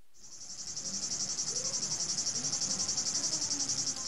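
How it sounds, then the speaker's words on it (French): Cicadas sing in the summer heat on hillsides above Tizi Ouzou, a dense, loud, continuous high-pitched buzzing that pulses rapidly and steadily throughout, with no voices. "le chant entêtant des cigales"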